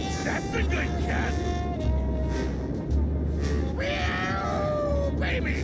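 Cartoon cat meows from the Grim Fandango video game, several short harmonic mewls rising over a steady game music bed and background ambience, with no talk over them.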